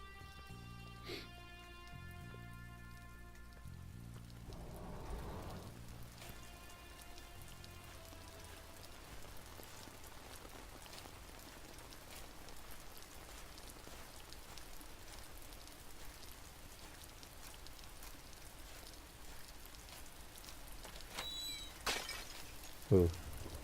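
In the horror video game Stifled, rain falls steadily outdoors as a soft, even patter. It continues throughout beneath brief tonal game sounds near the start and a few sharper clicks toward the end.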